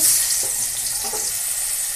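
Shrimp frying in a pan, a dense, even, close hiss of sizzling oil that holds steady without breaks for two seconds.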